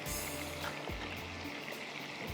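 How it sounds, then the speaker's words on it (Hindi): Water is poured into rice in a pot while making chicken lal masala, a continuous close splashing pour that fills the whole moment without speech. "थोड़ा सा इसके अंदर पानी डाल देते हैं।"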